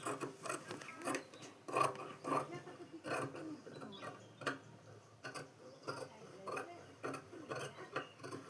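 Scissors cut away extra blouse fabric in a series of crisp, irregular snips and rasping cuts, up close and fairly quiet, with short gaps between them.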